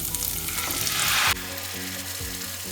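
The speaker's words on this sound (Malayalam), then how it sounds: "അങ്ങനെ ചില്ലി ഫ്ലേക്സും ഒന്ന് വഴറ്റിയ ശേഷം നമുക്കിതിലേക്ക് ഇനി അരച്ച് വെച്ചിട്ടുള്ള ടൊമാറ്റോ പേസ്റ്റ് ചേർക്കാം" Garlic and chili flakes sizzle loudly in oil for pizza sauce, a bright hiss that swells and then cuts off abruptly, leaving quieter background music behind.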